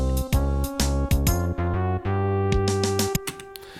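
Korg M1 synth bass and horn parts play a short Pokémon-style phrase, with punchy sustained bass notes and brassy stabs stepping upward in a rhythmic pattern, loud and alone.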